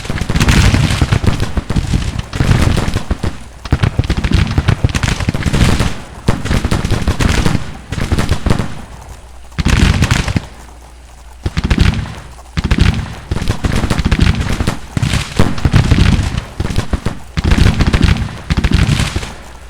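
Massed rifle and cannon fire from troops in a Civil War battle game, with dense overlapping volleys, loud and nearly continuous, broken by a few short lulls.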